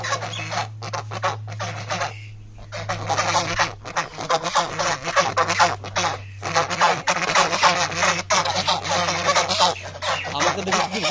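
A flock of domestic geese in a home courtyard honks and cackles continuously nearby, harsh overlapping calls with brief pauses, over a low hum.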